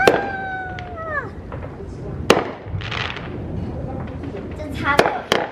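Home fireworks set off by neighbours behind a house on the Fourth of July: whistling tones at the start, then a few sharp, separate bangs with crackle, fairly near, over a constant outdoor background.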